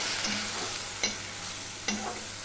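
A masala of tomatoes, green chillies and a little water frying in a pan for a pomfret fish curry, a steady close sizzle marked by two or three sharp scraping stirs of a spoon, with no talk.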